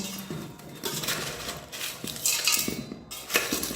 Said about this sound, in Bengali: এবার এটাকে ভালোভাবে মিশিয়ে নেব